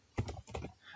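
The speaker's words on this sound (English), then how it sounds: "You can see that I can just start typing" A few quiet keystrokes on a computer keyboard, two soft taps close together in a brief, faint burst.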